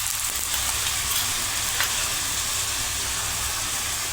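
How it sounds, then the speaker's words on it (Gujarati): A bottle gourd thepla fries in oil on a pan, giving off a close, steady sizzle and hiss with no voices. "હવે આપણે તેની ફરતે ચમચી વડે તેલ નાખી દઈશું આ રીતે"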